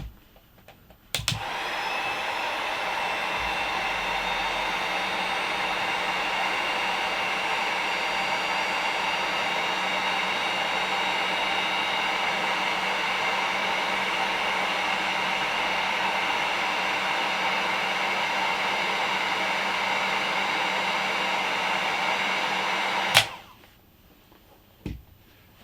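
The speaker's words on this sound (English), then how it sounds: "Bring over the heat gun." A heat gun blows hot air onto a heavy-gauge electrical cable connector, a steady loud whooshing hum that runs unbroken for over twenty seconds, switched on and off with clicks at each end.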